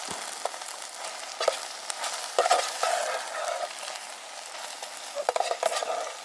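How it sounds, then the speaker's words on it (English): Onions and garlic frying in a pan at a desert backcountry camp, with a steady sizzle and a few sharp stirring scrapes and clinks, close and clear, with no voices. "Let's give our onions and garlic one more stir."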